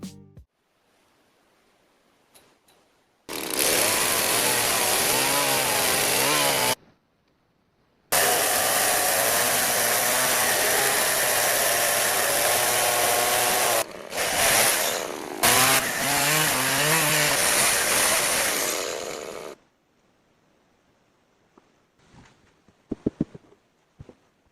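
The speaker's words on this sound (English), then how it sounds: "Inside, he cuts a few more wooden planks and builds a simple table along the wall." A power saw cuts wooden planks indoors in a shelter, running loud and steady in long bursts with short pauses between cuts, then falling silent apart from a few faint knocks.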